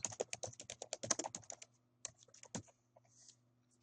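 Typing on a computer keyboard: a quick run of crisp keystrokes, close and clear, slowing to a few scattered taps after a pause.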